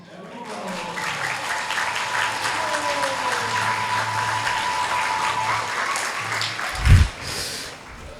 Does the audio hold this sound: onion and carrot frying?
no